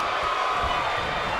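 A dense wall of crowd noise from a WWE 2K25 wrestling match fills the arena, a loud, steady roar of cheering throughout.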